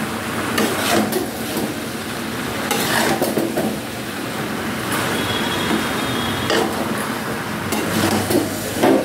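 Malabar spinach hits a hot frying pan and keeps up a continuous close sizzle, broken by repeated scraping stirs and clatters of the utensil against the pan, with no talking.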